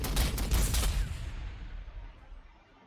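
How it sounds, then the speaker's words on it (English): Bolter gunfire in the Warhammer 40,000: Sanctus Reach game, a short burst of rapid loud shots that fade into a decaying rumble and echo. "Just have the bolter, take the shot there."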